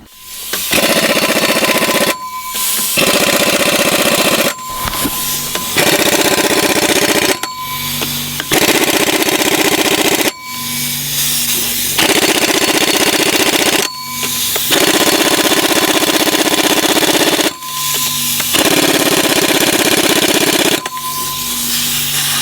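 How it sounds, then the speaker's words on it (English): Flywheel bolts on a Cummins engine are driven with an impact tool during a gearbox repair, a very loud, close series of about eight long hammering bursts separated by brief pauses. "just torquing the flywheel bolts there"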